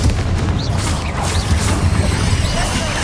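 A Confringo spell explodes in Hogwarts Legacy gameplay, heard as dense, rumbling booms and crashing blasts that continue loudly throughout, along with whooshing game effects.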